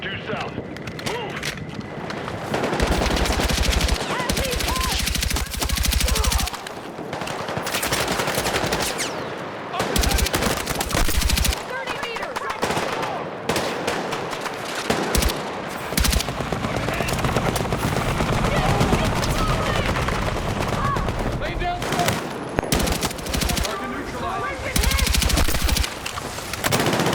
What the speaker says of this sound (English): Moving through the souk under heavy fire.